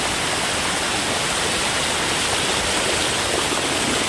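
A year-round waterfall on the Surya River in Palghar roars continuously and loudly nearby, a thick, unbroken wash of rushing water with no voices.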